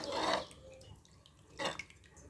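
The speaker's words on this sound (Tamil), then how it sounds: "அதனால் அதுக்கு தக்கன தண்ணி சேர்த்துக்கிறேன்" Water is poured into a pot of rice for chicken biryani in two short splashy gushes, the first longer, with quiet gaps of faint kitchen background between them.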